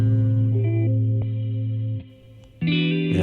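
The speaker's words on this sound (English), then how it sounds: "just some straightforward chords with some reverb" Sustained synth chords washed in reverb with a degraded, distorted chorus-like texture, holding steadily before dipping briefly and swelling back brighter and louder.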